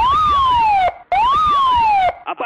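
A police-style wailing siren effect inside a forró remix track, sweeping up then gliding down in two loud repeated cycles, each cut off abruptly, followed by short pulsing bursts.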